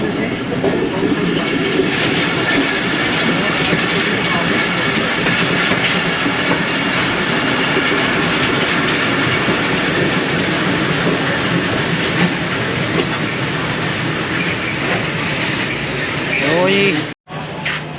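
Ravi Express passenger train rolling into Kala Shekhupura Junction: a continuous loud rumble with rail clatter and faint wheel squeal, heard from on board, with people talking underneath.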